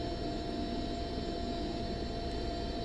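A simulated Cessna 152 taxis in X-Plane, its piston engine holding a steady, even drone at low throttle with a constant hum and no voices.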